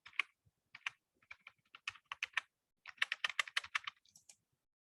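Rapid typing on a computer keyboard, bursts of crisp clicking keystrokes with brief pauses between runs, fairly close and moderately loud, no voices.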